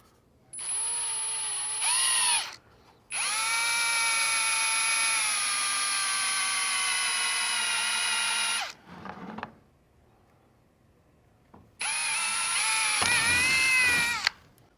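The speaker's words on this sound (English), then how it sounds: "I'll drill this hole out." A power drill bores a hole through a bracket for a RAVEK Speakeasy turn signal kit on a Xpedition, whining loudly in long sustained bursts with short pauses and slowdowns between them.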